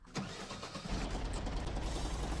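A farm vehicle engine in the Professional Farmer 2014 video game starts, then settles into a loud, steady low rumble and idle that carries on to the end.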